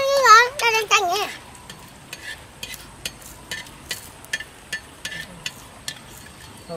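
Food fries in oil on a rural Vietnamese home cooking session. Children's voices open the clip, then a thin steady sizzle runs under repeated short sharp taps and clinks of utensils.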